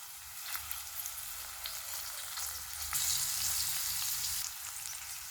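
Onions sizzle and fry in hot oil with ginger garlic paste and curry leaves, a steady close crackle that swells louder midway with a burst of spitting as the paste and leaves hit the pan.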